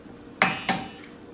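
Eggs are cracked against a bowl for a non-vegan pumpkin pie, giving two sharp, close clinks in quick succession and then a faint third tap.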